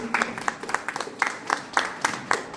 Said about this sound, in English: Give Harta a warm applause, please.